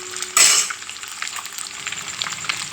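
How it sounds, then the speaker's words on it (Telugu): Tomato and egg frying lightly in a pan, opening with a sharp burst of sizzle as the food hits the hot oil, then a gentle, steady crackle with faint stirring taps. "లైట్గా వేయించుకోవాలి."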